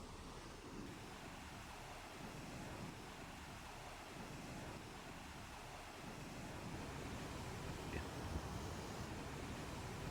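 A waterfall in Utica gives a steady, broad rushing roar that stays constant throughout with no voices, heard from a moderate distance with some wind buffeting the microphone.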